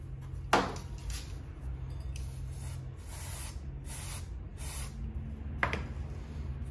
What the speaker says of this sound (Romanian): În prima fază o să pulverizăm ușor și o să învârtim ca să aibă timp să acționeze